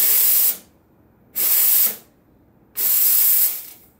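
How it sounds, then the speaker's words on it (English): The steam wand of a Sanremo Cube R espresso machine hisses in three loud bursts of about half a second to a second each, separated by near silence. "So I turn that in order to turn on the steam."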